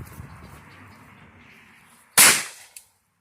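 Small firework bursts with one sudden loud bang after a stretch of quiet outdoor background noise, followed by a short fainter pop, close by with no talk over it.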